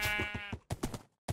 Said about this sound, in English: Okay, here's a sheep.